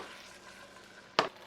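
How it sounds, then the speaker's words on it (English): A steady low sizzle of garlic and dumplings frying in a pan runs throughout, broken by one sharp clatter near the end. "once that garlic's sizzling, I'm adding those dumplings right in"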